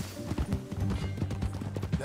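Horse hooves clip-clop in a quick rhythm as riders set off in Red Dead Redemption 2, with a voice speaking over the hoofbeats.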